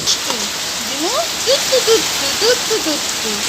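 Steady rain falls outdoors as a continuous, fairly loud hiss, while a voice talks intermittently over it.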